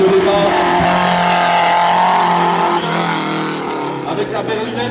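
An Alpine Berlinette rally car launching from the start line of a historic hill climb at Urcy, its engine roaring loudly and then fading slightly as it pulls away, with an announcer talking over it.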